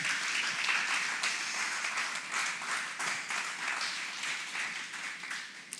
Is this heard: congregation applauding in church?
yes